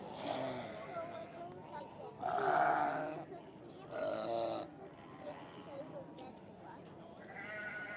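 Valais Blacknose sheep at an agricultural show, a few faint bleats rising out of a quiet hall, with brief lulls between calls and soft background murmur.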